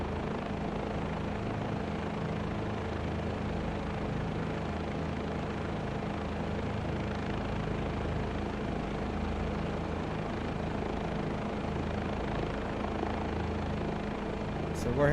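A helicopter flies steadily in Microsoft Flight Simulator 2024 on a tour over Providence, with a constant rotor and engine drone that holds level throughout, with faint talk.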